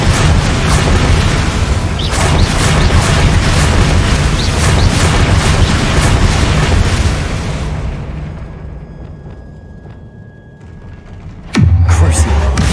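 The Confringo fire spell explodes in a Harry Potter video game: a loud, roaring blast rumbles on for several seconds and fades, then a second sharp boom bursts in near the end.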